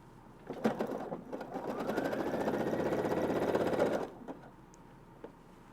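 A sewing machine runs a zigzag then back stitch on a pair of prototype pants, a fast steady mechanical whirr of needle strokes for about three and a half seconds, with clicks before and after, close up and alone.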